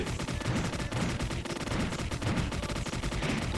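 A gun turret positioned behind the player in the Skibi Tower video game fires in rapid, continuous bursts, a dense rattle of shots with no pauses across the whole stretch.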